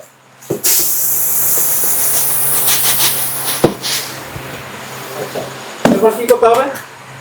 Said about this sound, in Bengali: আমি চালিয়ে দেখছি এটা ধান দিচ্ছি